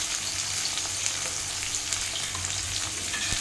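Chicken fries with onions in a pan, a dense, even sizzle that crackles continuously and close up without a break.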